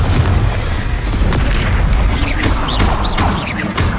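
Confringo fire spell blasts in Hogwarts Legacy, a dense run of loud booming explosions and crackling bursts in quick succession with bright whooshing streaks, close and continuous with no voice over it.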